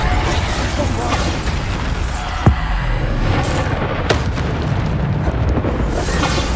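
Explosions from the Bombarda spell in Hogwarts Legacy, a loud continuous roar of blasts with a sharp boom partway through and another impact a moment later, dense and unbroken throughout.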